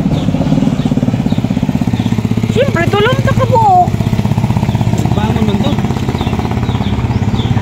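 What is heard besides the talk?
motorcycle engine running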